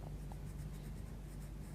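Watercolour pencil moving gently over card in a steady, continuous scratchy scribble, close and fairly quiet, with no talk.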